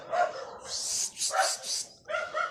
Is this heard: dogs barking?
yes